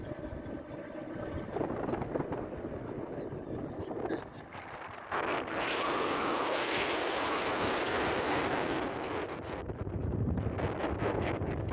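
Wind buffets the microphone during an auto-rickshaw ride, a loud continuous rushing roar with gusty surges, a brief lull around the middle and an engine drone underneath.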